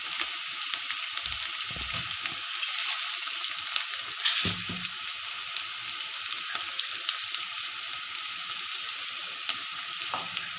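Ingredients for pepper rice sauté in a pan with a steady, bright frying sizzle, continuous and close, with a few soft stirring knocks underneath.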